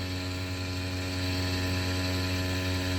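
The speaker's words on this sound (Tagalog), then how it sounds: "kung maririnig nyo, gumagana yung pump motor natin" A steady electric ABS pump motor on a Ford Ranger whirring at a constant pitch after repair, a loud continuous mechanical hum without variation or voices.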